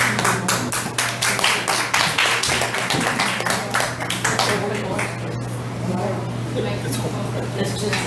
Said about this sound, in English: please put your hands together and give a warm round of applause for Anthony B